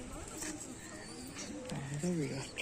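Shinga pigeons give a close, low, throaty coo near the end, under someone speaking.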